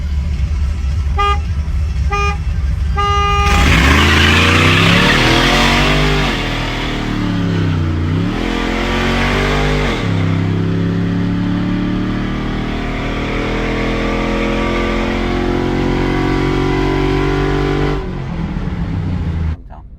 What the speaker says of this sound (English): I have a video of it, of me like racing it with the other truck.